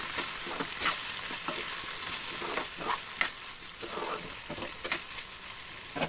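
Potato pieces fry in hot oil in a pan for aloo fry while a spoon stirs them, giving a steady close sizzle with repeated scraping stirs and no talking.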